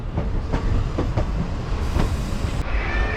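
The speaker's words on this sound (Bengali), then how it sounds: "আর এই উল্টো দিকে হলদিবাড়ি শিয়ালদহ হলদিবাড়ি দার্জিলিং মেল এসে গেছে" The Haldibari–Sealdah Darjeeling Mail rumbles past on the opposite track with rhythmic clickety-clack of wheels over rail joints, loud and continuous throughout.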